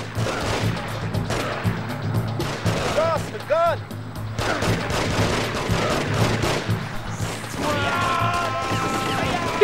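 Triad gang members storm in with gunfire in The Getaway video game, a dense run of shots and crashes under a constant backing track, with a voice talking over parts of it.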